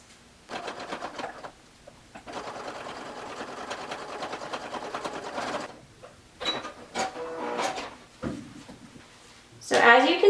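Sewing machine basting zipper tape along a fabric edge for a half-zip pullover, a close rhythmic stitching whir in stretches broken by brief stops and handling noises; speech is faint and does not name the sound.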